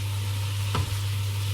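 Rice noodles, pork and vegetables being stir-fried in a pan, a constant close sizzle with one brief scrape of stirring midway; no one speaks.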